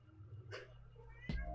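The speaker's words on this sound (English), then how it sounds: "There's a cat in here." An indoor house cat gives two short meows, one fainter and one sharper and closer, against a low background hum.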